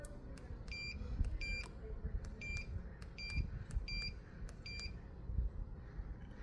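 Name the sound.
AKAGear smart door lock keypad beeps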